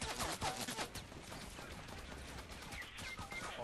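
Dense bursts of rapid gunfire in the Fortnite battle royale, several weapons firing at once in quick, overlapping volleys that fill the whole clip without a break.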